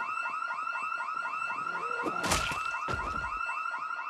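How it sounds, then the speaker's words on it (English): A car-style alarm wails in the Project Zomboid video game, with a fast repeating warbling tone that cycles steadily and loudly throughout, and a brief crash-like burst in the middle. "Why is there an alarm?"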